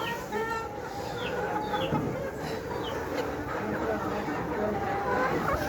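Sixteen-week-old layer pullet hens cluck steadily and continuously in a crowded poultry shed, with overlapping calls near and far and no voices in the foreground.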